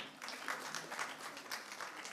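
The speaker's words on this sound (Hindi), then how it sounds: "ताली बजा लो इसके लिए" Brief round of audience clapping during a political speech to a Hindi-speaking crowd, a moderate, even patter of hands that holds steady throughout.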